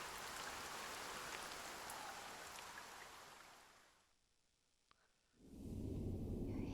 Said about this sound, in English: Lo, the rain doth fall